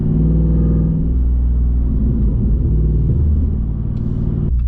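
A deep, rumbling 392 V8 engine with upgraded AWE exhaust drones loudly inside a Jeep Wrangler's closed cabin, windows shut, steady and throaty, with a brief change near the end.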